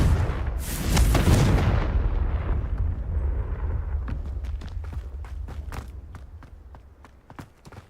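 A Confringo spell explosion in a wizarding video game, set at a house, bursts loudly with a deep rumbling blast and sharp crackle, then decays into a long rolling tail scattered with sporadic sharp pops and debris-like clicks.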